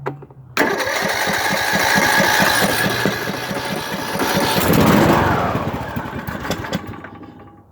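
A Craftsman YTS3000 lawn mower engine turns over in a cold start, then runs steadily loud and near with a rapid chugging pulse for several seconds before tapering off.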